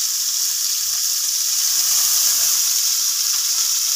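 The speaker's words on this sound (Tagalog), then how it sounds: "ilunod na to atong karne mga guys. Gamay nga karne mga guys, pampalasa sa atong pancit" Meat frying in a pan as pancit is prepared, giving a steady, even hiss of sizzling fat that holds at a constant level for the whole stretch, with no talking over it.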